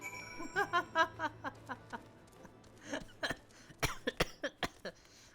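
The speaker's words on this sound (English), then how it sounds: "I'm choking on my own cough." A person coughs repeatedly in short, choking bursts, with clustered irregular hacks at the start and again near the end, fairly close and alone without talk.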